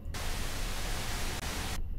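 Loud hiss of car radio static from the horror game Fears to Fathom: Norwood Hitchhike, cutting in abruptly and holding steady for under two seconds before dropping out, with no speech.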